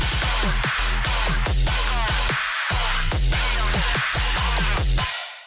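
Electronic drum beat programmed in Ableton, with steady hi-hats running over a punchy kick and snare pattern, loud and continuous with brief drop-outs between bars.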